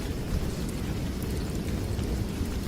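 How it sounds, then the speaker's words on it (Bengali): Heavy rain pours steadily outside a tent in a cartoon scene, a dense, constant low rumbling wash without breaks. "বাইরে ঝমঝম বৃষ্টির শব্দে ভেতরটা কাঁপিয়ে তুলছে"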